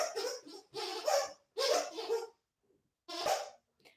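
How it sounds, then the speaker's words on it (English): A young German Shepherd puppy barks in several sharp, close bursts spaced about a second apart, loud and alone, followed by a short faint yip. "He's a German Shepherd and he's still like a puppy."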